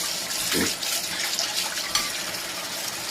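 Water splashes and gushes out in a short pour, followed by a lighter trickle and drip.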